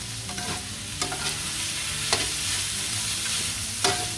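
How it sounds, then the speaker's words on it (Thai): Pork stir-frying in a pan with bean sprouts, a steady sizzle underneath with a few sharp scrapes and clacks of the spatula spaced through it, close and fairly loud, no talking. "เพราะฉะนั้นให้หมูสุกก่อนนะคะ ผัดไปเรื่อยๆนะคะ"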